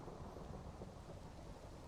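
A thunderstorm in the video game Minecraft during tornado survival play: steady, dense rumble and rain hiss that stays constant and fairly quiet throughout, with no voices.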